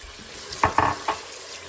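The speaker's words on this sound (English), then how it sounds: "Once the oil is hot, I'm adding one big chopped up onion." Chopped onion drops into hot cooking oil in a pan, giving a few short bursts of sizzle and spatter over a faint background, brief and fairly quiet.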